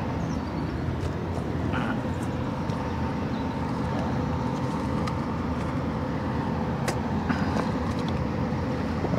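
A pushed barge convoy passes on a river near Würzburg, heard as a constant low engine rumble and broad wash that holds steady and fills the background, with a few faint knocks over it.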